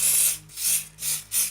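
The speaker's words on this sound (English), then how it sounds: "So I'll just spray the socket first with some contact cleaner" Contact cleaner hisses from an aerosol can onto the CPU socket of an Amiga 500+, in four short sharp bursts with brief pauses between them, close and fairly loud.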